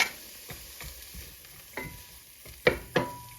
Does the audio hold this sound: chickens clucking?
no